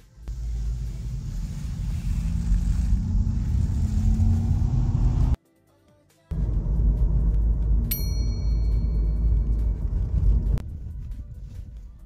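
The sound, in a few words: Volkswagen e-Golf electric car driving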